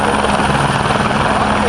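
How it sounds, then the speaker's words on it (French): A helicopter approaching during an illegal aircraft interception exercise at the Avord airshow, its steady, loud rotor and engine drone filling the whole stretch without letup. "l'hélicoptère se rapproche de nous, approche de nous"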